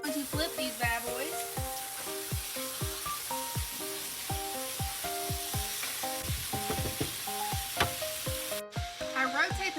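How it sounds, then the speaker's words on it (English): Adobo-seasoned pork chops frying in a pan: a loud, steady sizzle with crackling pops throughout, under a sustained melodic tonal background, and no speech. "Now I'm just gonna cover my pork chops in adobo seasoning and put them in"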